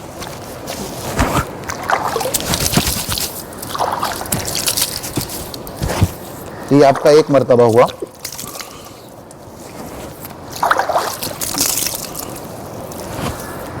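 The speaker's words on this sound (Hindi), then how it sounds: "पूरा चेहरा आपको 3 बार धोना है" During wudu ablution, water splashes and trickles as hands scoop and wash a face repeatedly, in uneven bursts of sloshing close by, while someone talks over it.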